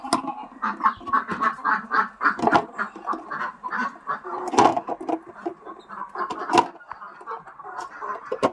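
Free-range native hens cluck and squawk in a busy, irregular chorus near at hand in a home backyard flock, with occasional louder sharp calls standing out.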